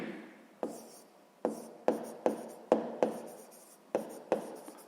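A pen or pencil writes on paper during a sixth-grade math lesson, with a series of close, soft scratching strokes in an irregular rhythm, each starting with a small tap, and no talking over them.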